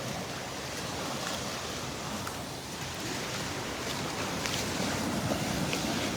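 Waves roll steadily over the shallow water of a sandbar as the tide comes in at a Gulf beach, a continuous broad wash of surf with some wind noise and no talking.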